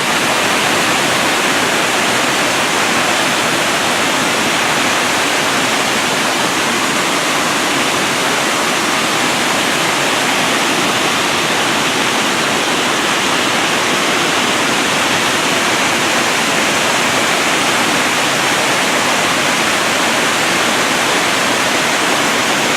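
Rough Rock Falls in Spearfish Canyon, running strong after heavy rain, roars as a loud, dense, continuous rush of falling water with no pauses and no voices.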